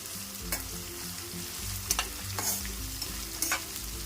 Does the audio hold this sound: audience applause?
no